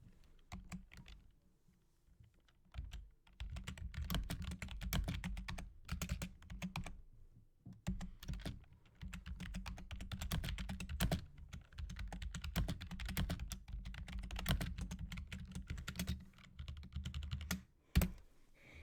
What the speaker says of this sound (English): I'm gonna type out a raid message